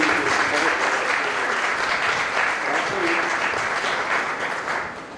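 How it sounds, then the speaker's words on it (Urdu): A congregation claps for the parents at a vows ceremony, with dense, sustained applause that stays loud throughout and tapers slightly at the close. "ہم کو تالیاں بجا کر ماں باپ کو"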